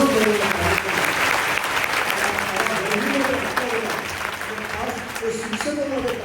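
A gathered audience at a guidance camp bursts into strong, sustained clapping, dense and even throughout and easing slightly toward the end, with some voices mixed in.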